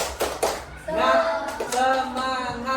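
A school class performs a rhythmic 'tepuk semangat' spirit clap, a few sharp hand claps at the start giving way to children chanting together in a sing-song unison over lighter clapping.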